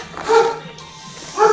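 A dog barks indoors, two short, sharp barks about a second apart, close by and moderately loud, with no talk over them.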